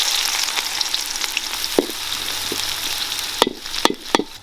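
Chopped big onions sizzling in hot oil with mustard seeds and cumin for a village-style soya chunk curry, a steady close frying hiss broken by several sharp crackles and stirring knocks toward the end.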